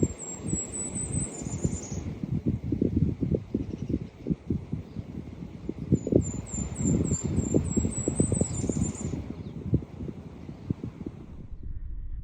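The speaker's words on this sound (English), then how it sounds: "Finally, I heard a bird, golden crowned kinglet" A golden-crowned kinglet sings high, thin repeated series of squeaky notes rising then descending, heard twice over a steady rushing background of wind and water in the White Mountains of New Hampshire.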